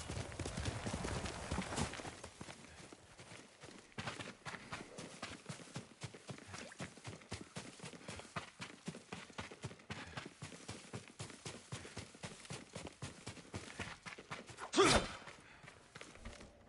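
A horse gallops in the video game Ghost of Tsushima, a long run of rapid rhythmic hoofbeats, fairly faint and steady, with a brief loud burst near the end.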